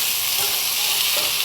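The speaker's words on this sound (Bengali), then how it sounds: "তারপর ভালো করে ভেজে নিব" String beans frying with turmeric powder in a pan, a dense, even sizzle that stays loud and close throughout this brief moment, with no talking over it.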